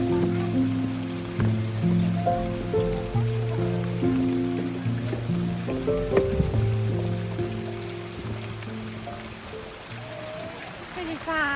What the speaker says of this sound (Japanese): ちょっと雨風強すぎ。